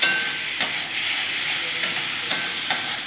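Ginger and cumin powder are sautéed in hot oil in a pan. A steady, close hiss of frying runs throughout, with a few sharp scrapes from stirring at irregular moments.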